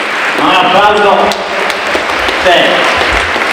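Applause from an audience at a politics festival, moderate and continuous, with a speaking voice clearly heard over the clapping throughout.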